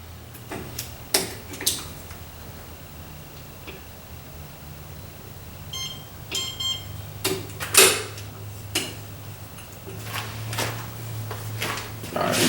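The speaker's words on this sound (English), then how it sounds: "we've got a beep" A smart door lock being installed on a door gives short beeps in the middle of a run of sharp clicks and ticks from handling the hardware, close by, with no talking.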